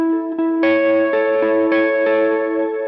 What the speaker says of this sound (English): the electric guitar sounds really nice with the reverb and delay on